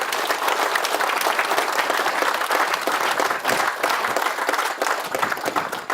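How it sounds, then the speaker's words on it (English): Dense, steady audience applause fills a presentation hall at a ranch event, many hands clapping loudly and continuously with no voices over it. "If we could give a round of applause for Mr."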